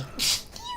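A single sharp sneeze bursts out near the microphone and fades quickly, alone with no talk.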